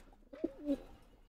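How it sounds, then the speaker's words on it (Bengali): A pigeon coos in a loft housing several breeds, including silver Giribaz pigeons, with one soft, rolling, close call rising over a quiet background before fading out. "আচ্ছা, তো আরো কিছু কবুতর আছে, আমি সেটাও দেখাবো।"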